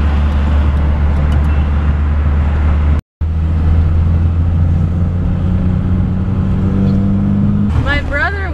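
A 1980 VW Rabbit drives through city traffic with a steady low engine drone and road roar, cut by a brief dropout, then rising engine pitch near the end as a voice speaks briefly.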